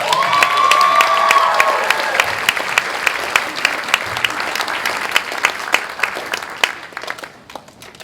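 Audience applause at a school spring band concert with a jazz ensemble, welcoming a singer on stage: dense, sustained clapping from a crowd with a few brief sustained tones near the start, fading toward the end.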